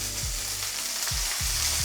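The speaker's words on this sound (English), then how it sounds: "just let it sear nicely on one side" Vegan beef strips searing in oil in a hot pan, giving a steady, close sizzle with faint scrapes and no voices.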